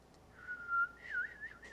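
A lone whistled melody imitating birdsong, wavering and sliding in pitch with small trills, clear and fairly close with no talk over it.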